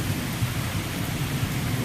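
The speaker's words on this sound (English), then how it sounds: "You hear that thunder?" Low, rolling thunder rumbles steadily beneath heavy, constant rain during a days-long rainstorm over a homestead, with no voices.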